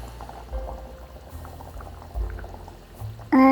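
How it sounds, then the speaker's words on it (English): Hot water and coconut milk are poured into a pan of jackfruit curry, bubbling and sizzling at close range with uneven surges of liquid, ending in a louder burst of pouring. "Then add hot water and coconut milk."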